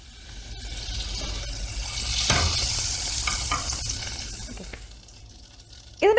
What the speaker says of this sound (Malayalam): അതിലേക്ക് 1 ടേബിൾ സ്പൂൺ ബട്ടർ ഇട്ട് കൊടുക്കുകയാണ്.